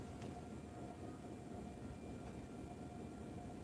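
A train rolls past while traffic waits at a crossing, a steady low rumble with a faint tonal whine holding constant throughout, no voices.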